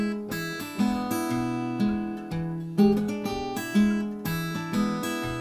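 Acoustic guitar plays a rotating fingerpicked bass line, alternating low bass notes under ringing chords in a steady, bouncing rhythm, close and clear with no talking.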